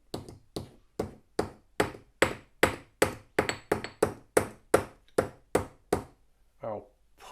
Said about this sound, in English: by gently stroking the copper with the copper side of the mallet,